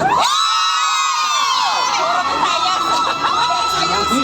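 Audience at a quiz contest shouting and cheering for candidates, a loud, dense crowd roar of whoops and high-pitched yells sustained throughout.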